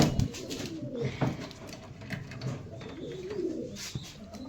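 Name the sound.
pigeons cooing in a pigeon loft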